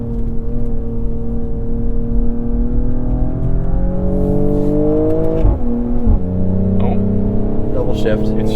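A 2022 Mercedes-AMG GLE 53 engine accelerating, its steady rising drone climbing in pitch before a gear shift drops the note and it pulls again, loud and close from inside the cabin.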